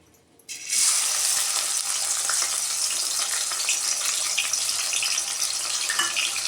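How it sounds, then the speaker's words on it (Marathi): After a brief quiet moment, chopped tomato drops into hot oil and a sudden loud sizzle erupts, holding as a steady, intense hiss up close for several seconds. "आता आपण याच्यामध्ये घालणार आहे आणि बारीक करून घेतलेला टोमॅटो."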